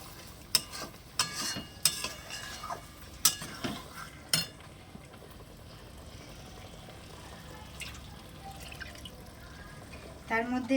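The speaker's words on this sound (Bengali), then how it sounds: "পনিরটা দিয়ে মশলার সঙ্গে ভালো করে একটু নাড়িয়ে নেব, নেড়ে কষিয়ে নেব।" Paneer stirred and fried with spices in a pan, spoon scrapes and clinks coming in irregular knocks early on, then a softer sizzle, with a louder clatter at the end.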